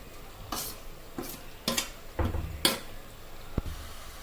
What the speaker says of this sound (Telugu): ఇలా వేసిన తర్వాత మసాలా అంతా కలిసేలా ఒకసారి అలా తిప్పుకోవాలి